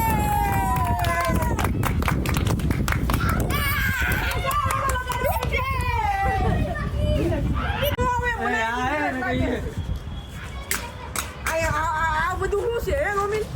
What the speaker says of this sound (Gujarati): એ તાળી પાડી નાખો બધા એકવાર